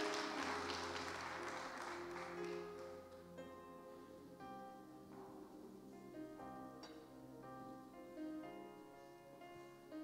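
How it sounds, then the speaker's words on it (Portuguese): A church congregation applauds, a dense burst of clapping strongest in the first few seconds, then thinning beneath sustained keyboard or organ music that carries on to the end. "Você dê um aplauso ao Senhor antes de tomar o seu assento."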